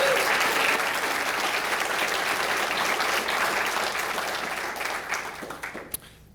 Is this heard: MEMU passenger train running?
no